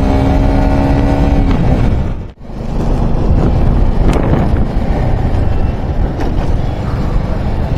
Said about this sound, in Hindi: इतनी तेज हवा चल रही है